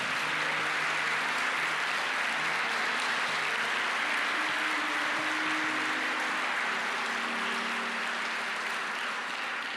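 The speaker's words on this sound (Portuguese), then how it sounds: "Vamos aplaudir Jesus." Applause from a church conference congregation, a steady broad wash of clapping lasting throughout, with faint voices and tonal murmurs underneath.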